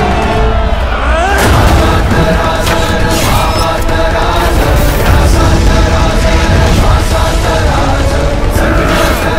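Cannon fire from a historical film about a fort, heavy booms rolling one after another in a salvo, loud and close, layered over a dramatic score.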